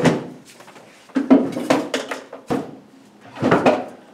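Drawers in a school workshop are pushed shut one after another, giving a series of close wooden-sounding knocks and rattles with short pauses between them.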